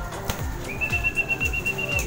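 Pigeons kept for sale flap their wings in a quick burst of soft, rhythmic beats close by, with a faint steady whistle-like tone running beneath.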